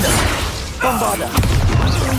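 A Bombarda spell explosion in the Hogwarts Legacy video game, with a loud burst and crackling whoosh over a dense, continuous battle din.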